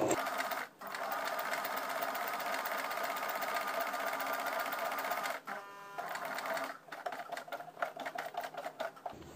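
A Singer sewing machine stitching a buttonhole with a buttonhole foot runs in a steady, close, rapid mechanical whir. It pauses briefly near the start, then breaks into short stop-start bursts toward the end.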